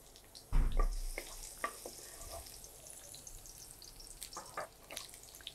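Chopped garlic hits hot oil with a loud burst of sizzling that quickly settles into a steady, softer crackle, close by with no talking.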